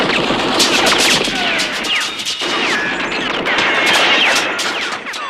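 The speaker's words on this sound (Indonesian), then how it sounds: "Dia terus menembakkan senjata otomatisnya dan menghancurkan seluruh isi kantor." Automatic gunfire fills a police office in the action film Blood First: rapid, loud bursts with smashing and crashing debris, almost continuous, with a brief pause partway through.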